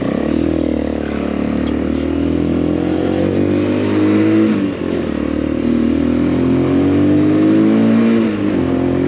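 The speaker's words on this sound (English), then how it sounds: "It does give you a bit of a rumble to it when you wind it on a little bit." An MGB ATX 125 adventure motorcycle engine rumbles loud and close, its pitch climbing and dipping as the throttle is wound on, with a brief dip in the middle and no talking.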